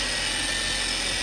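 An electric buffer spins over a clear coat finish in a loud, steady high-pitched whine that holds unbroken for its whole short span, near and alone.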